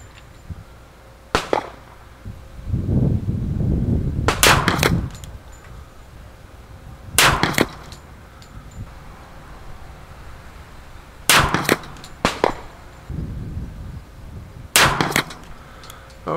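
Shots from a 1911 pistol fired at a 100-yard target on a windy range, heard as about eight sharp, loud cracks in spaced pairs and singles, with gusts of wind rumbling between them.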